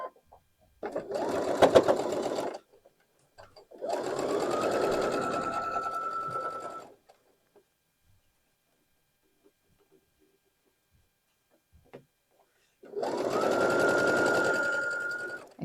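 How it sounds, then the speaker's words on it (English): Sewing machine stitching layers of fabric for a sawtooth star quilt block, three loud close bursts of fast steady whirring separated by pauses, with no talk over it. "let's go to the sewing machine"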